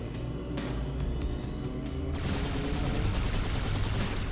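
Continuous automatic gunfire rattles in the Halo 2 campaign finale, rapid steady bursts over a rumbling vehicle engine, loud and close throughout.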